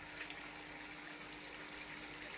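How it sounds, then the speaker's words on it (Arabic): Water is poured into a pot of home-cooked chicken kabsa seasoned with homemade chili harissa, a steady, close rushing pour that holds evenly throughout without any voices. "نجيب المية وندلقها"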